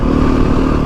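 A Beta 480 ADV motorcycle engine drones loud and close in a brief steady burst, a continuous mid-pitched hum with no voices.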